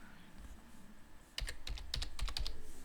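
Typing on a computer keyboard in the vi text editor, a quick burst of a dozen close, crisp key clicks after a quiet room hum, with no talking.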